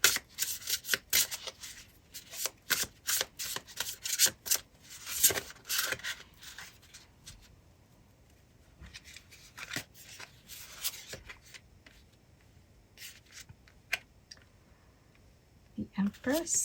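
Tarot cards being shuffled close up during a pick-a-card reading, in repeated bursts of crisp riffling and rubbing with short pauses between them, quieting midway before shuffling resumes.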